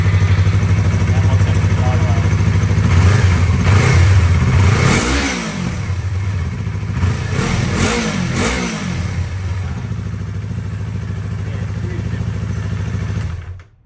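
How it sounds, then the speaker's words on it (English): A Yamaha MT03 motorcycle engine fired up and blipped through several sharp revs at close range, then settling to a steady idle, with someone talking over it. "All right, so we're gonna start the bike here."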